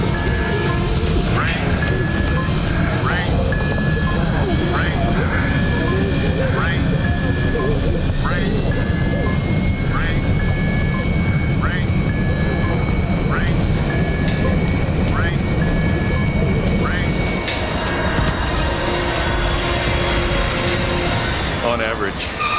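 A passenger aircraft flies through a volcanic ash cloud with its cockpit window blasted, its engines giving a loud, constant roar with rhythmic ticks and rattles throughout, while voices speak over it.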